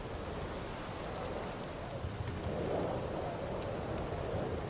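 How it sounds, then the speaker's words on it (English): Thunderstorm ambience in the video game Kingdom Come: Deliverance II, a steady wash of rain with a low distant rumble of thunder swelling slightly midway, continuous and even throughout with no talk. "I hear the storm."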